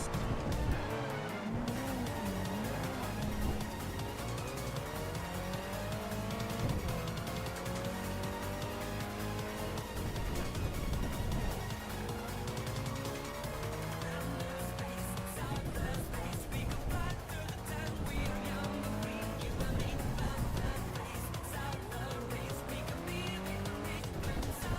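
Cars drift down a mountain pass in the racing game Touge Shakai, engines revving and whining through gear changes while tires squeal through repeated slides, loud and continuous with no voices.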